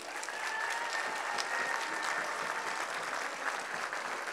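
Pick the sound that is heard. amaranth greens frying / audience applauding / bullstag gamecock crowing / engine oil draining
audience applauding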